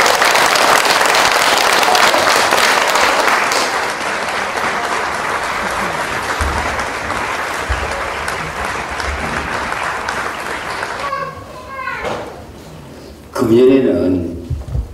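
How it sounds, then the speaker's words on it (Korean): Loud, sustained audience applause for three performers taking the stage at a poetry and music concert, a dense wash of clapping that fades after about eleven seconds into scattered claps and a voice speaking. "큰 박수 부탁드리겠습니다"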